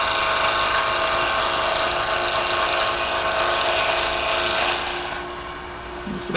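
A wood-turning gouge cuts a spinning wooden Christmas ornament on a lathe, a loud, steady rasping hiss up close that fades as the cut lightens and ends near the finish.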